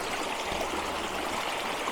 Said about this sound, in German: Ich bin heute nochmal am gleichen Bach wie beim letzten Mal.